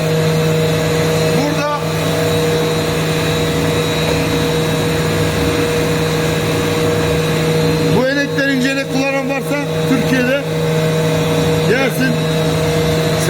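A plastic recycling production machine for ABS, PP, PE and PMMA runs in a factory with a loud, steady mechanical hum and tonal drone, while people talk over it in bursts.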